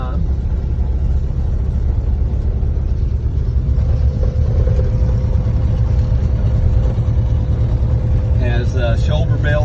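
A 1966 Ford Fairlane converted to a Cummins diesel rolls along a rough road toward a gate, its deep diesel rumble steady and close throughout, with a voice coming in briefly at the end.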